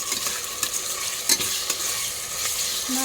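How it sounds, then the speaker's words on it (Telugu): Onions sizzle in hot oil while a spoon scrapes and stirs them in the pan for Telugu-style country chicken curry, a continuous close frying hiss punctuated by irregular clinks and scrapes. "మంచిగా ఇది తిప్పుతూ ఉండాలి."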